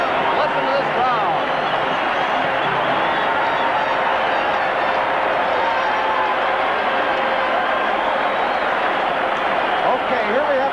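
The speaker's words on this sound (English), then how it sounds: "Listen to this crowd." A hockey arena crowd at the 1976 Canada Cup final between Canada and Czechoslovakia roars steadily throughout, a dense continuous wash of cheering with a commentator talking over it.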